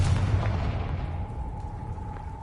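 A Confringo explosive spell bursts in the Hogwarts Legacy video game, giving a loud booming blast at the start that fades into a rumbling tail and a sustained tone.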